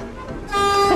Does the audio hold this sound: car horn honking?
yes